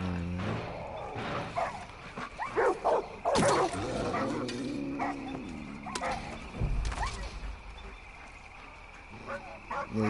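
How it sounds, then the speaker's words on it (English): In the video game Far Cry 5, dogs bark and yip excitedly in several scattered bursts, with whimpers mixed in, over ambient game noise with occasional thumps. "these dogs are going nuts"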